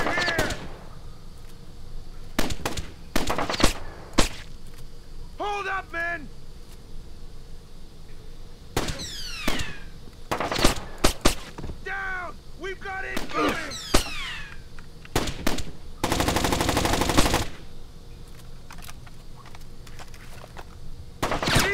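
Gunfire in the stealth video game Splinter Cell: Chaos Theory, bursts of sharp shots scattered between voices calling out, with one longer sustained burst near the end.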